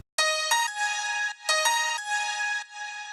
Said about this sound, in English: I got this Nexus preset that is called CH Piano Stab.